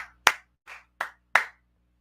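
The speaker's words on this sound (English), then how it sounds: "Clap it up." Four hand claps at a quieter level, close but irregularly spaced with one softer clap among them, each short and snappy with silence in between and no talking.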